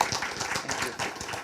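Brief round of audience applause for a speaker after a lunch-and-learn talk, a short steady patter of clapping heard alone.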